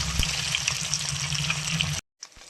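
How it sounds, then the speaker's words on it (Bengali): Fish pieces frying in hot oil, a dense, steady crackling sizzle with bubbling pops, close and loud, cutting off abruptly near the end before a brief faint return. "এই মাছ বেশি ভাজে না, তাই আমি হালকা ভেজে দেখুন এই মাছ বাটিতে তুলে নিলাম"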